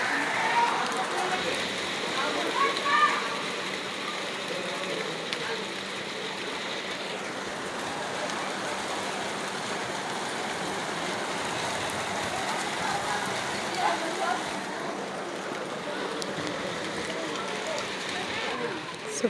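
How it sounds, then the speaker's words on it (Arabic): Summer rain falls steadily in Cairo, a continuous broad hiss of drops on surfaces that stays even and fairly quiet throughout, with no voices heard over it. "على المطر اللي جاي في الصيف"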